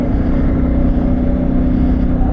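A CFMoto 450MT motorcycle's rear wheel spinning on a low-grip tyre, a loud, steady, close engine drone held at high revs for a couple of seconds.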